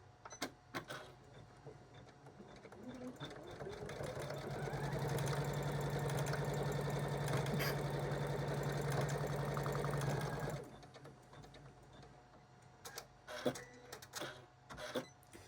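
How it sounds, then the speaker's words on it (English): An embroidery sewing machine stitches a tack-down line across an in-the-hoop appliqué quilt block, running as one steady, even mechanical whir for about six seconds, with soft handling noises and light clicks before and after. "the machine is going to stitch a tack down line across this"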